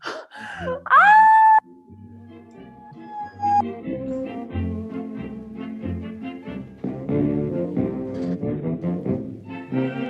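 A woman screams in the dark during an improvised horror comedy scene, first with a piercing rising wail, then a long sustained note that breaks into moaning, sobbing cries that go on loud and close.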